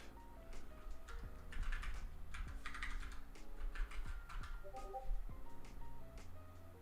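Someone types on a computer keyboard in quick, uneven bursts of clicky keystrokes, close and fairly soft, with no speech over them.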